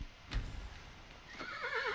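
Horses in the video game Skyrim: a short thud early on, then from the midpoint a clear warbling whinny with wavering, vibrato-like tones, loud and close in a quiet scene with no talk.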